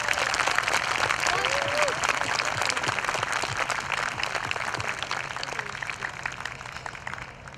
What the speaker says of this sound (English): give them the loudest cheers, the most thunderous applause